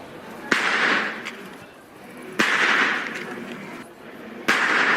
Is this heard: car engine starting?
no